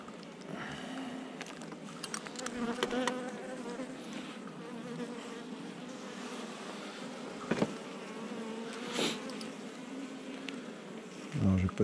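Honey bees drone steadily at a hive, a dense continuous buzzing close by with occasional individual bees flying past louder.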